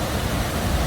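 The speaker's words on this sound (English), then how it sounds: "It's the very first waterfall we come across, Krka National Park." Steady, loud broadband roar of a waterfall at Krka National Park in Croatia, heard close by on a rainy day, continuous and unbroken with no voices.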